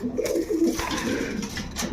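Female and male pigeons cooing nearby in soft, repeated throaty murmurs, with light rustling and clicks around them and no speech.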